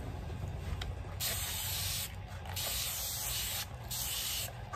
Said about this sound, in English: I'm just gonna spray the area